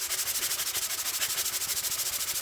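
A hand plane iron is flattened with rapid, even back-and-forth scraping strokes, a close, hissy rasp that pulses steadily with no pauses.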